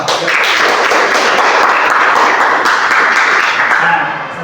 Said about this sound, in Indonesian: kita tepuk tangan kita semua